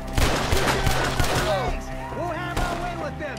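Rapid gunfire bursts from a woodland shootout in Red Dead Redemption 2, several sharp close shots cracking over loud shouting voices and orchestral score.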